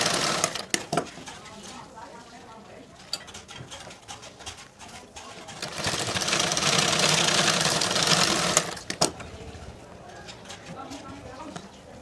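A sewing machine stitches half-inch tucks on the back of a blouse, running in a loud, fast burst of about three seconds. A person talks before and after it, and pigeons coo in the background.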